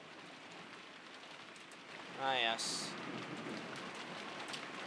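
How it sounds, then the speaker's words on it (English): Steady rain at night in the Umineko When They Cry visual novel, a soft continuous patter throughout, with a brief harmonic voice sound and a short bright chime partway through over the rainfall. "Now it's night raining."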